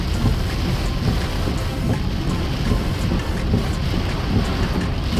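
January rainstorm in Monrovia, Liberia: steady heavy rain pouring and hissing on surfaces with a low rumbling undertone, continuous and dense throughout.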